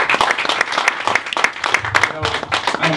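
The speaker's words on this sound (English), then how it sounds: "he deserves a round of applause for stepping up to the plate" Round of applause at a boxing press conference for Tyson Fury vs Steve Cunningham, dense close clapping from a small room audience, uneven and ragged throughout.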